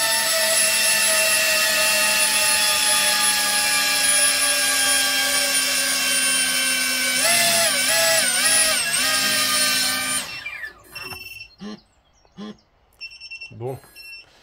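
An electric motor powered by a LiPo battery stored for five years whines at high pitch, steady for several seconds, then wavers and stops abruptly, followed by scattered talking.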